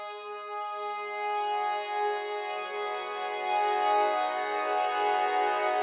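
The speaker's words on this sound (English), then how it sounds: "So here I have this decent sampler patch, which is made out of a violin, I believe, or like a viola, and it sounds ethereal." An ethereal sampler patch built from a violin or viola, used in an alt/dark pop chorus, plays as a soft, sustained, airy string pad that slowly swells, heard alone with no talking.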